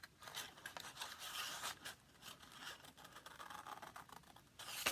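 Scissors snip out paper shapes in quiet, repeated crisp cuts at an uneven rhythm, faint and close, with no talking.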